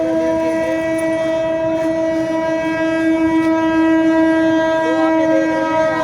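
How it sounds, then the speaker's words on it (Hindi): An Indian Railways train arrives at Dadri in Greater Noida, sounding a loud, sustained horn over the rumble of the rolling wagons, close and continuous. "सबसे पहले मैं आपको दिखा देता हूँ यहाँ पर आती हुई ट्रेन।"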